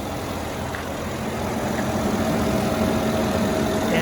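A 2017 Mercedes-Benz GLS 450 all-wheel drive SUV idles steadily, a smooth, even engine hum held at constant level throughout with no talking.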